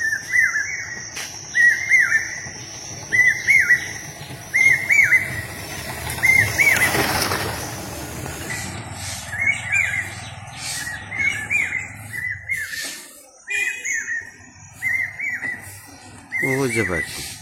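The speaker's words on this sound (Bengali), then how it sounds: "তো পাখিগুলা এত সুন্দর ডাকতেছে" Birds sing in the trees of a village, repeated bright chirping phrases coming at a steady pace over several seconds, moderately close, with faint background noise and occasional talk.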